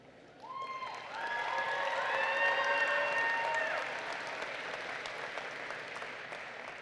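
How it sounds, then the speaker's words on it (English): A graduation ceremony crowd applauds its teacher readers. Fairly distant clapping swells after a second and holds, mixed with a few high tonal whistles or cheers near the start, then gradually eases. "give a big round of applause to all of our teacher readers"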